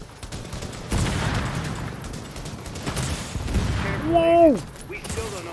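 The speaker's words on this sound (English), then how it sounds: "It's shooting rockets everywhere." Rockets launched from an enemy machine in The Division video game crack and boom in a rapid series of bursts, with a rising whistle near the end, while players talk over the gunfire.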